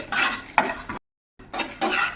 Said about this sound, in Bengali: এটাকে এখন এই যে গরম চাটুর মধ্যে দিয়ে এটাকে একটু রোস্ট করে নেব